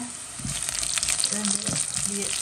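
Onions for a Jaffna crab curry sauté in a hot pan with a steady, close hiss and crackle, broken by occasional stirring scrapes, with no talk.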